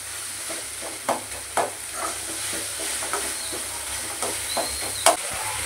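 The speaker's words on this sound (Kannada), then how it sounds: "ಆ ಟೊಮೆಟೊ ಎಲ್ಲ ಚೆನ್ನಾಗಿ ಸ್ಮ್ಯಾಶ್ ಆಗಬೇಕು, ಅದುವರೆಗೂ ಚೆನ್ನಾಗಿ ಫ್ರೈ ಮಾಡಿ." Tomato masala sizzles in a hot pan while being stirred for a dry fish fry, a steady frying hiss punctuated by several sharp scraping clacks of the spoon, close and without speech.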